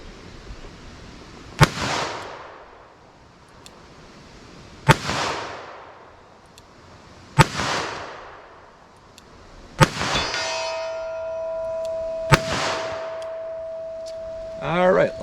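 Handgun rounds fired at steel targets 75 yards away: five separate sharp shots, each followed by a ringing metallic clang as the steel is struck, spaced a few seconds apart, with a long sustained ring after one hit near the end.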